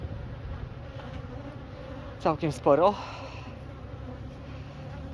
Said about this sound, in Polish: Bo pszczoły są na wylotku.